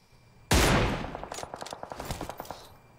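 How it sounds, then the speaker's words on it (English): Rapid gunfire in a video game shootout: one loud blast opens a sustained burst, followed by a steady rhythmic string of about a dozen quick shots that fade slightly toward the end, with no talking. "I sniped him and that team just instantly shot him, bro."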